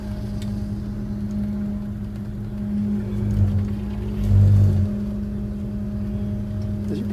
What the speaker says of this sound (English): Does your power steering always whine like that?